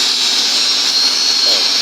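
Homemade petrol-powered generator engine running steadily under about a 2 kW load, a continuous loud drone with a high whine that holds level throughout without pauses.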